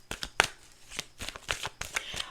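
Tarot cards being shuffled close by, a quiet run of quick riffling, flicking and slapping card sounds in uneven bursts, with no talking.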